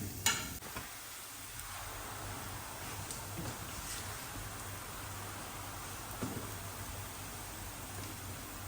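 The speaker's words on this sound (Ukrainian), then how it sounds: "Смажимо 5-6 хвилин до золотистої скоринки на маслі." Mushrooms sizzle and crackle steadily in a buttered pan, a continuous frying hiss with occasional stirring clatter, close and fairly quiet.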